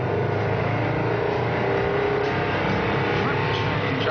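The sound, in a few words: compressed air powered car prototype driving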